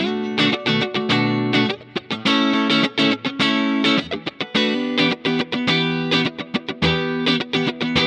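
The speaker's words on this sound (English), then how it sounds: "It's made for funk playing and also anything that requires a squeaky clean guitar sound." A squeaky clean funk electric guitar tone from a Kemper Chaka Clean patch, played as fast choppy rhythmic strums and muted stabs, loud and upfront, with no talking.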